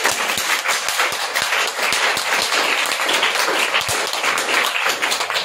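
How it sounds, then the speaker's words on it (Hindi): A crowd of students at a school event for an anti-drug campaign in Nalanda district claps in quick repeated sets of three, the sharp sound dense and steady throughout. "तो उस ट्रिपल क्लैप की आवाज जिला शिक्षा पदाधिकारी के कार्यालय तक जानी चाहिए"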